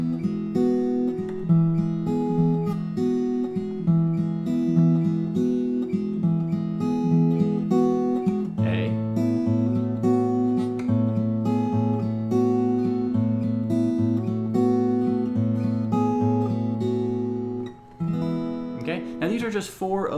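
A fingerpicked acoustic guitar pattern in E lets the sixth pluck ring out before a lone note on the third string. Smooth, sustained notes carry on through the passage, close-miked and steady, with a few brighter string noises near the end.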